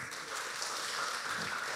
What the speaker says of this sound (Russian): Давайте дадим Иисусу аплодисменты